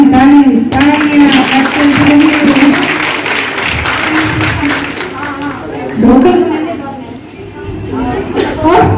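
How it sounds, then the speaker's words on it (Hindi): Audience applause at a school Sanskrit competition prize ceremony in Uttar Pradesh, a steady, loud wash of clapping from a crowd that swells and eases over several seconds, with some chatter mixed in. "ताली ताली तालियां"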